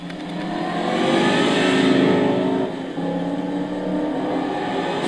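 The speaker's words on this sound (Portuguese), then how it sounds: "Sinta o ronco do V10." A 5-litre V10 Audi RS6 Avant in Gran Turismo 6 at the Curitiba track roars under acceleration, a loud sustained engine drone that climbs, drops briefly at a shift, then pulls again with no talking.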